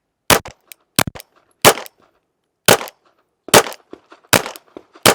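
A pistol fires in sharp, loud single shots, about eight spaced irregularly across a few seconds at close range, with short metallic clatter between some reports and no talking.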